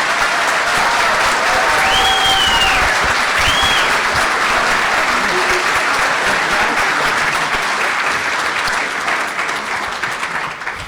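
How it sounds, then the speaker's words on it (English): Loud, sustained applause from a large crowd, steady throughout and tapering slightly toward the end. "give them a round of applause."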